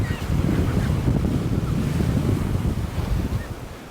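Storm surf from Hurricane Helene pounds Madeira Beach as a steady, loud roar of crashing waves mixed with heavy wind buffeting the microphone.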